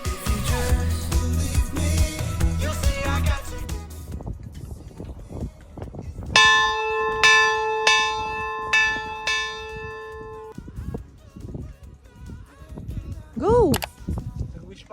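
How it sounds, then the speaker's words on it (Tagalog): A wish bell rung on a drift ice walk tour in Hokkaido gives one clear struck tone that rings on for several seconds. It comes after a stretch of music and chatter, with people talking around it. "A bell that makes wishes come true."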